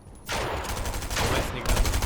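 Rapid bursts of gunfire in Fortnite during a duo cash cup match, two loud clustered volleys of shots filling the brief moment with no talk over them.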